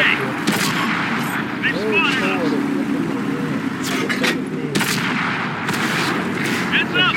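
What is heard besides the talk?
artillery fire in video game World of Tanks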